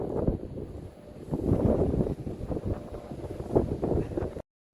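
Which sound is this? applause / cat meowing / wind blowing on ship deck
wind blowing on ship deck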